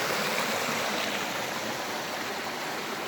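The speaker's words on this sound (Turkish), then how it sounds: "Buradaki bir şelale Böyle." A small waterfall pours over rocks in a creek, making a loud, continuous broadband rush that stays steady and close throughout with no voices.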